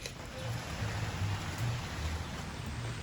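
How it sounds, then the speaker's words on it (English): Steady rain falling outdoors at a flea-market sale, a continuous broadband hiss with low rumbling underneath, constant and fairly loud throughout with no voices. "More rain."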